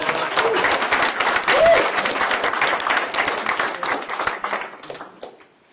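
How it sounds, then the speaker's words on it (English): An audience bursts into loud applause for Miss Peggy's 100th birthday, with crowd noise and a voice rising over it, before the clapping tapers off and fades out. "You're supposed to clap right now."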